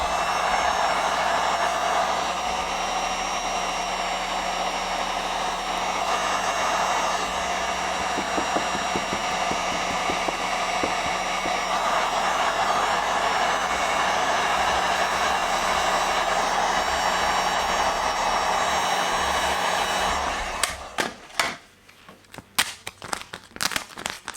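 A heat gun blows hot air onto tint film on a Tesla Model 3 rear light, a loud steady roaring drone that holds for about twenty seconds, then cuts off into scattered handling clicks and rustles.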